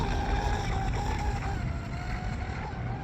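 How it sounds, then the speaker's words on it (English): A small high-revving engine on a T800 F1 RC powerboat whines continuously and loudly, the pitch wavering slightly as it races across water. "this boat has some power."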